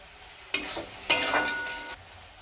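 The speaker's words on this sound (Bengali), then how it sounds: "টমেটো আর পেঁয়াজটা আরও 2 থেকে 3 মিনিটের মতো ভেজে নেব।" Chopped onion and tomato fry in a pan for curry while a spoon stirs them, giving two short scraping, sizzling strokes over a quiet background.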